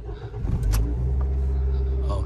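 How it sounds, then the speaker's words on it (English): A 2009 Toyota Yaris engine runs after starting following new ECU initialization, a close low rumble with a brief rev swell, while a person talks faintly over it. "You can see the engine is running, so meaning our initialization is successful."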